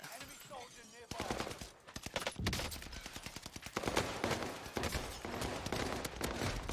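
Video game gunfire rattles in rapid bursts, with dense machine-gun volleys and scattered single shots firing continuously after a quieter opening, while a voice talks underneath.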